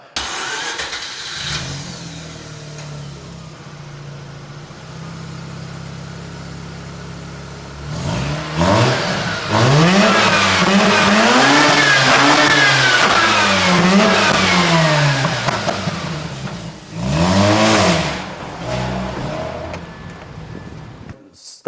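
A yellow Mazda RX-8's Wankel rotary engine idles, then revs hard in several rising and falling sweeps, a loud sustained burst followed by a shorter blip, heard up close with no talking.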